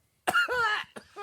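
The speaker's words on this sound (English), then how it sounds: "coughing because of weed, not coronavirus" A man coughs in a short burst of two or three harsh, throaty coughs, close and loud, after a brief silence, during a casual podcast conversation.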